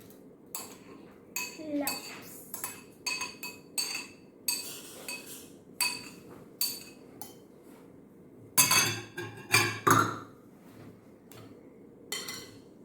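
Mashed banana is whisked into banana bread batter in a bowl, with irregular clinks and taps of utensil against the bowl and a brief faster burst of clattering near the end.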